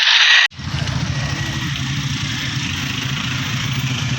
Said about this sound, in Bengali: দেখতে পাচ্ছেন একটু কতটা জোরে বাইকটা চালাচ্ছে